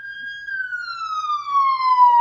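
A single clear siren tone holds close and loud, then slides slowly downward in pitch as it passes, with no talk.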